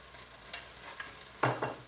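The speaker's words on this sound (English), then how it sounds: "Scrape all that off." A spoon scraping browned bits off the bottom of a beef stew pan, faint scratching strokes over a low sizzle, ending with two louder, sharper scrapes close by.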